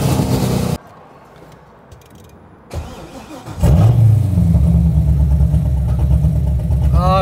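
A Corvette engine catches and settles into a steady, slightly uneven, rough-running drone after a hard launch-control start, loud and close after a brief quieter stretch.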